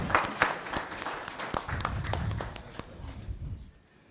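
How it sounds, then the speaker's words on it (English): Scattered applause from a small audience at a school board meeting, with a few sharp, close claps over a low murmur before it tapers off into quiet. "let's give him a round of applause"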